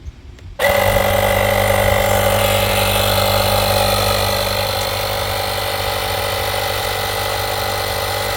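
A Topdon V2200 portable air compressor kicks on abruptly and runs steadily, inflating a completely flat tire with a loud, constant motorized drone and mechanical hum.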